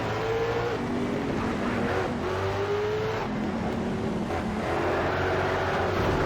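A Honda NSX racing in Need for Speed: SHIFT, with a steady, loud engine drone whose pitch climbs and drops through gear changes, continuous and close with no talk.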